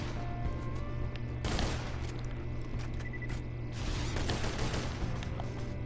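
Enemy gunfire in the video game Borderlands 2, a dense, continuous fusillade of shots and booms throughout, loud and sustained with a heavier burst partway through.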